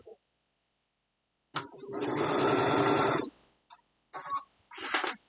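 A sewing machine stitches fabric in one steady, buzzing burst of fast needle strokes lasting over a second, followed by shorter stop-start runs, close and clear in a quiet room.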